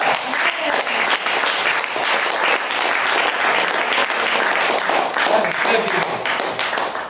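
A church congregation applauds loudly and steadily, a dense wash of many hands clapping close by for several seconds, with faint voices mixed into the crowd.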